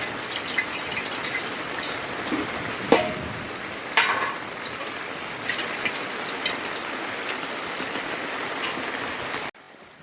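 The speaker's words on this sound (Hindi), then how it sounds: "पानी गिर रहा है यहाँ पे, यहाँ गिर रहा है" Steady rain pours down outdoors at a village home, a dense close hiss of drops with a few louder splashes and patters on nearby surfaces, continuous until it cuts off near the end.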